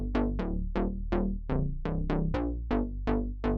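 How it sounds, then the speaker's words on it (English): A plucky FM synth bass, one oscillator modulating another, plays a run of about a dozen short, snappy notes in a steady rhythm, each note with a bright metallic attack that quickly decays. "I always think about somehow FM bass sounds."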